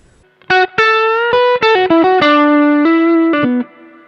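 Distorted electric guitar plays a blues solo phrase, a run of picked and bent sustained notes with effects, loud and alone, ending after about three seconds.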